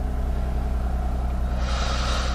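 A 2012 Lexus IS350 F-Sport with an RR Racing tune idles steadily, a low continuous engine rumble heard close and alone, with a slight airy rise near the end.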